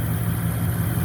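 A 1990 Buick Estate Wagon's Oldsmobile 307 four-barrel carbureted V8 running steadily, a close, even low-pitched idle hum with no voices.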